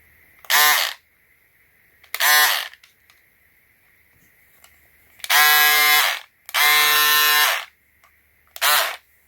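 A VLOXO portable cordless rechargeable electric scissor shears cutting tool runs in five separate bursts, each a steady high buzzing whir of one to two seconds. Short quiet gaps with faint room tone separate the bursts.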